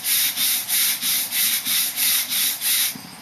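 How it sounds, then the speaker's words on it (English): A wire brush scrubs back and forth across a block in about nine even, rhythmic rasping strokes, close and fairly loud with no talk. "you just take and rub a specified number of times on a number of surfaces with a wire brush"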